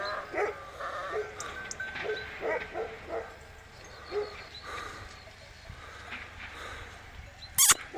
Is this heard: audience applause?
no